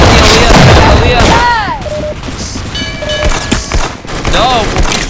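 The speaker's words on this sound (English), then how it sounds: "No, he's shooting me." Gunfire in the Roblox shooter Arsenal, loud shots and crashes layered with bright game effect tones and sweeping electronic sounds, mixed under excited talk.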